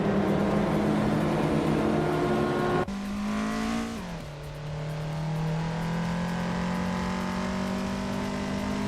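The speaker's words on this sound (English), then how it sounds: "Trash Crashton is driving an Audi S4 from 1997" A 1997 Audi S4 in a racing video game, its engine holding a steady sustained drone before a sharp gear change at about three seconds, then dipping and climbing again as it pulls hard on its own.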